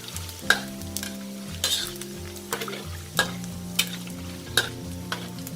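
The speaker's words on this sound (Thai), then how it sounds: "เวลาเราทอดนะ เราทอดทีละน้อยๆค่ะ" Pork skin cracklings fry in oil in small batches, a steady close sizzle broken by sharp metallic clinks and scrapes of a utensil against the pan, with low hum beneath and no talking.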